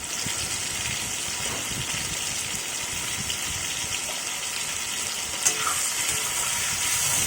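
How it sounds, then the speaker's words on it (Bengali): Tomatoes sautéing in a pan with salt and turmeric for a tomato chutney, a steady close hiss and crackle of frying with no talk. "টমেটোটাকে আমি নুন আর হলুদ দিয়ে ভালো করে কষাবো।"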